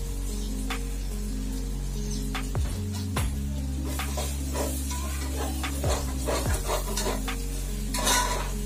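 Spices with turmeric frying in oil in a pan, a steady sizzle beneath intermittent scraping stirs and clinks of a utensil against the cookware, with a low hum running throughout; no one speaks.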